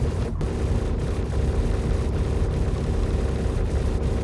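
Inside a spaceship in Star Citizen, a continuous, dense, muffled rumble of ship weapon fire rolls on, with faint rhythmic thumps of repeated shots running under the heavy low drone.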